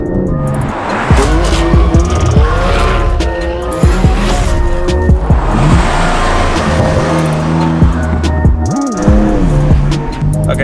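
BMW M4 Competition driven hard, engine revving up and down through gear changes with sharp acceleration bursts and some tire squeal, loud and close throughout.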